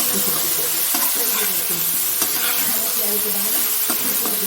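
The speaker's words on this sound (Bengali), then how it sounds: "কপিটা দিয়ে দিলাম আলুটা ভেজে রাখলাম এটা বেশি ভাজবো না কপিটা হালকাই ভাজবো" Cauliflower florets lightly frying in a pan after potatoes, a continuous close sizzle and hiss with intermittent stirring clicks and scrapes, no speech over it.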